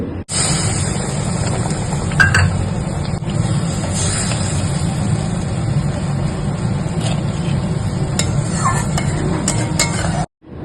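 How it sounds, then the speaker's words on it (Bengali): A steady, close sizzle and bubbling of chitol fish curry cooking in a pan, with occasional scraping clinks of stirring, continuous for the whole stretch. "আবার ভালো করে নাড়তে হবে বাটিতে মশলা ধোয়ার জল দিয়ে দিলাম"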